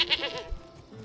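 Goat bleats from a goat shed in a farming game, a few short, faint wavering calls in quick succession, soft and close.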